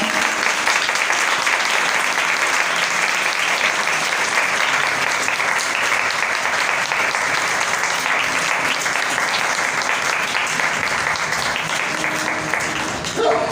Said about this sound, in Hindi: खुदावंद के जलाल के लिए जोरदार तालियां